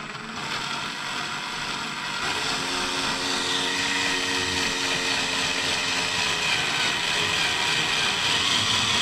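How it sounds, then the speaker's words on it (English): A power drill bores into a boat hull with a steady mechanical whirring and grinding, loud and close, running continuously with a slight rise in pitch partway through. "Hold the drill flush with the boat surface."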